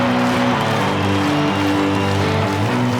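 A huge Wembley Stadium concert crowd claps in slow unison along to a song, the steady rhythmic clapping blending into a loud, dense roar of voices and live music.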